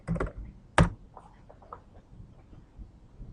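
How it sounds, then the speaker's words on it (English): Short burst of typing on a computer keyboard spelling a word, one sharp loud keystroke standing out, then softer scattered taps close by. "I'm typing in the word tech and press enter"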